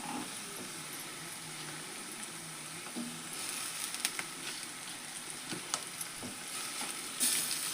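Tomato frying in oil for a potato (batata) gravy, a steady broad sizzle with occasional stirring clicks and scrapes, close and moderately loud, no voices.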